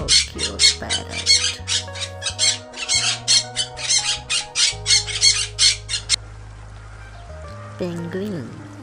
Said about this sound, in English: Oh, how cute parrot.